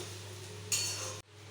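Cooked rice is stirred in hot oil in a kadai for fried rice, giving a single brief scraping, hissing stroke against the pan over a faint, steady background hum.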